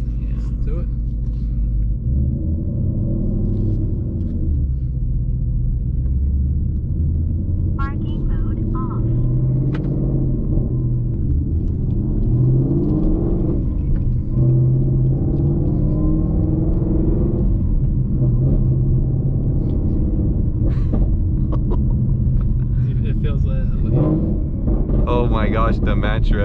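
A Whipple supercharged Mustang with a notchy manual shifter rumbles low and heavy while driving, engine drone rising and falling through rev-matched shifts under loud cabin wind, with people talking throughout.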